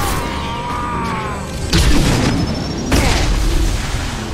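A heavy gun fires in Mass Effect 2 with two loud, booming blasts about a second apart, each hitting abruptly and then rumbling on under a steady bed of game noise.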